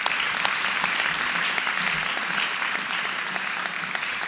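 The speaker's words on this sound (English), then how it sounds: "Let's give them a round of applause." An audience at an elementary school ribbon cutting gives school food service vendors a full round of applause, with steady, dense clapping from many people at constant loudness throughout and no talking.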